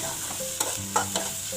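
Onion and tomato sautéing in a pan for a homemade onion chutney, a steady close sizzle broken by a few sharp stirring scrapes of a spoon against the pan, with no voices.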